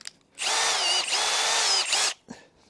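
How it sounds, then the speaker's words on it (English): A power drill fitted with a roughly 22 mm bit bores a hole in a live bait tank, running in one steady loud burst of about two seconds with a brief dip partway through, then stopping, followed by a faint knock. "Which I've got the right drill bit ready to go."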